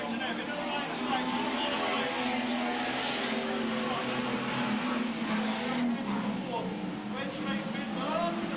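Racing cars circle a track during a televised race, with a steady broadband engine roar running throughout while a commentator talks over it continuously.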